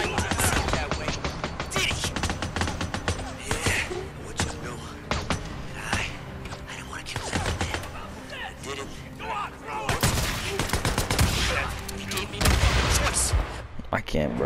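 Gunfire in the zombie-survival video game Days Gone, dense and continuous with heavy booming blasts and rapid shots layered throughout, a voice talking over parts of the action.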